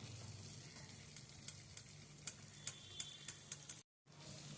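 Gram flour frying in oil in a pan, a faint steady sizzle with soft ticking stirs, briefly cut off near the end.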